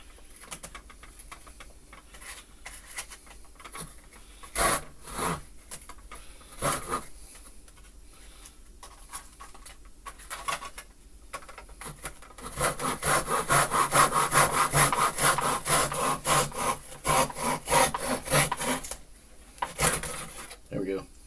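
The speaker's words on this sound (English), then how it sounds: "Miter cut. 90 degrees." A hand saw makes a 90-degree miter cut in wood, starting with a few scattered strokes and then settling into a fast, rhythmic run of rasping back-and-forth strokes near the end, up close. Birds coo in the background.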